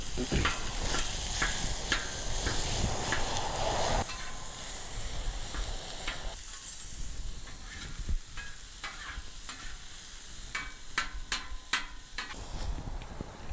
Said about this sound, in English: what I'm going to do now is just break this meat up.